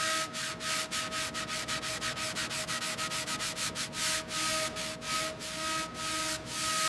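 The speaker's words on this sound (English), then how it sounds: "The restoration of this 1957 Jaguar XK150 moves to the rear quarters, with the panels sanded smooth." Rear quarter panels of a 1957 Jaguar XK150 being sanded during restoration, a close, steady rasping rub with quick rhythmic strokes that slow into longer passes.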